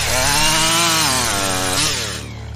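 A chainsaw roars to life as a loud sound effect, its engine note rising and wavering steadily for about two seconds before easing off, with no voices.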